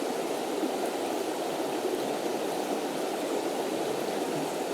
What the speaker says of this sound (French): Je suis dans le Tarn, à côté d'une belle rivière qui s'appelle la Dourbie.